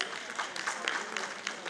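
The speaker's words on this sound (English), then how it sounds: "A huge round of applause." Audience applause as a school principal is welcomed onto the stage at an education panel discussion, a moderate patter of clapping with uneven bursts, fairly quiet and in the room.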